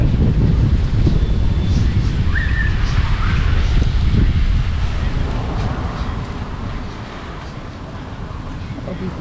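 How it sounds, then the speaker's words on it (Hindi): Strong wind blows hard during rainy weather, a loud continuous roar buffeting the microphone that eases slightly toward the end. "तेज हवा चल रहा है।"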